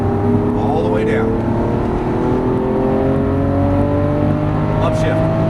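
A Lamborghini Aventador LP700-4 accelerates at full throttle, its engine roaring loudly and rising steadily in pitch from inside the cabin, with an instructor's voice talking over it.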